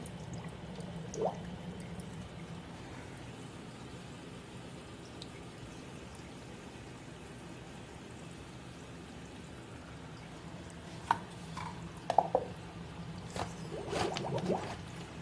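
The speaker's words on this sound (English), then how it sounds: "So here you can see the siphon has started, and it's going down." Water runs through a freshly started siphon as a faint, steady trickle, with a few brief splashes and drips near the end.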